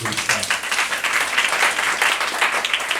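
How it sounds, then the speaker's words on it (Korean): A church congregation claps during a Korean Saturday worship service, the broad clapping sustained and fairly loud across the whole three seconds. "믿는 사람만 박수할게요"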